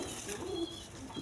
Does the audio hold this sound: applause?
no